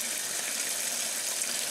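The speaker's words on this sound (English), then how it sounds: "So we are filling up with cold water" A 1996 Maytag Dependable Care Plus washer fills with cold water, a steady hissing rush of flowing water that stays even and unbroken for the whole stretch.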